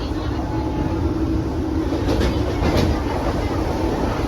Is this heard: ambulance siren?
no